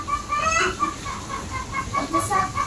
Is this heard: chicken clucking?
yes